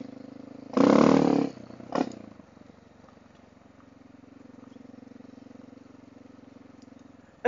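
A Honda XR650L motorcycle rides over fresh gravel, opening with a loud, brief rough burst and a second short crunch, then settling into a steady, moderately loud engine drone.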